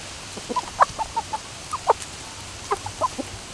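Tame, laid-back chickens cluck nearby in a loose series of short, separate calls, some paired, scattered over a quiet background with no talking.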